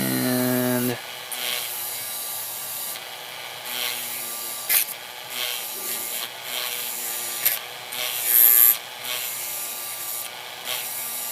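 Hand filing to shape a sharp angle on the edges of a Tamiya Mini 4WD MS/MA counter gear, a close, steady scraping rasp with repeated short strokes.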